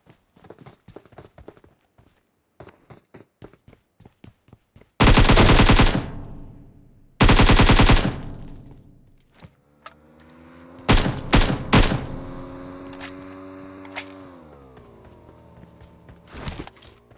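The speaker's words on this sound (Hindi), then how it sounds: "इसलिए मैंने इसको फायर दे के बुलाया कि आजा भाई फाइट कर ले" Gunfire in a mobile shooter video game: sparse light footstep clicks, then two loud sustained automatic bursts, later several sharp single shots and a final burst, close and dominant with no talking.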